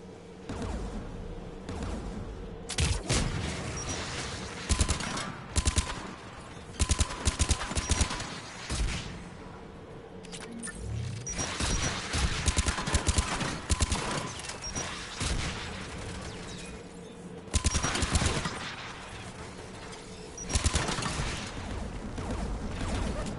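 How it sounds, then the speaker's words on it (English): Anti-aircraft gun fire in the video game Mass Effect 3, repeated heavy booming bursts in irregular clusters over a low ambient drone, loud and close, without talk. "AA guns ahead."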